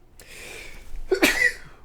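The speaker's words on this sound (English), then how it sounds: "Must sneeze again." A single sneeze bursts out near the end after a quiet, breathy buildup, loud and close, with no talk over it.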